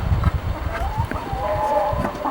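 Chickens cluck close by, a flurry of short, uneven clucks mixed with a few longer, drawn-out hen calls.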